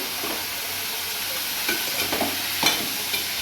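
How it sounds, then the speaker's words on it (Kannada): Vegetables for a vegetable kurma fry in a pan with mint and coriander leaves, giving a soft continuous sizzle broken by a few scraping stirs. "ಈಗ ತರಕಾರಿ ಹಾಕ್ಕೊತಾ ಇದ್ದೀನಿ ಅದನ್ನ ಚೆನ್ನಾಗಿ ಫ್ರೈ ಮಾಡ್ಕೊಳ್ಳಿ"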